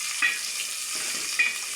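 Cashews, raisins and almonds frying in ghee give a steady soft sizzle, with two brief stirring clinks breaking the hiss.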